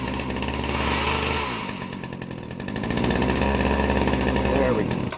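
A cheap second-hand chainsaw engine revs loudly and unevenly, surging, dipping briefly, then climbing back to a steady high roar, with voices audible in the background.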